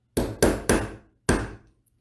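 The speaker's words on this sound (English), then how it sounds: "with your hammer, just give it a few sharp taps" Sharp hammer taps on a hole punch driven through fabric: three quick knocks, a pause, then a fourth, each loud and close with a short ringing decay.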